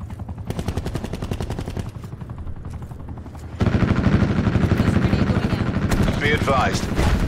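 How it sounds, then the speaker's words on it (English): Attack helicopter rotor thudding in rapid pulses over continuous automatic gunfire in Black Ops 4 multiplayer, loud and close, growing heavier midway, with voice announcements talking over it. "Hostile attack chopper inbound."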